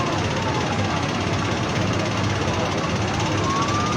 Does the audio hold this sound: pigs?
no